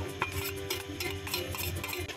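A ube flan mixture with cornstarch stirred for putoflan, giving a steady scraping swirl with light clinks of the utensil against the bowl, close and continuous with no talking.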